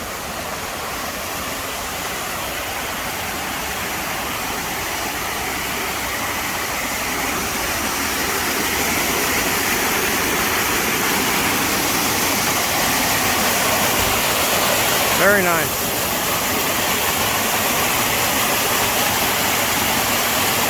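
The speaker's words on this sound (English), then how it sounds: "I want to get that running water. But there's a little waterfall" Continuous rushing of a small waterfall after a tropical storm, a steady mid-level roar with a faint low rumble beneath and a brief spoken comment partway through.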